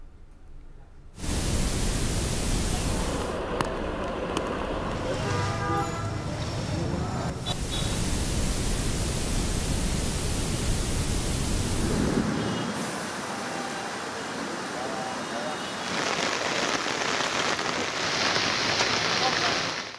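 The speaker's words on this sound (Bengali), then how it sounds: "সকালেও দেশের বিভিন্ন স্থানে বৃষ্টি অব্যাহত" Heavy monsoon rain pours onto city streets, a dense, steady hiss that runs loud and unbroken, shifting slightly in texture partway through.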